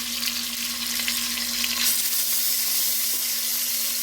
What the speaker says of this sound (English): So that's the purpose of searing everything.